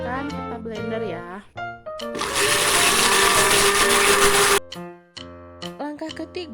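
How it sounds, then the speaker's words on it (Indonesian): A blender whirs loudly for about two seconds while blending peeled, scooped aloe vera gel. Someone talks before it starts and again after it stops. "hasilnya dimasukkan ke dalam blender ya."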